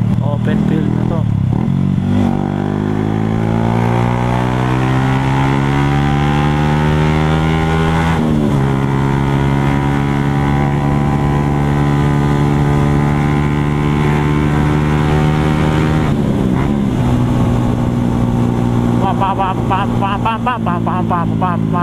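Remapped motorcycle engine revving loudly while riding, strong harmonic drone rising and falling through gear changes, with wind noise and a brief shift mid-way, close and continuous throughout.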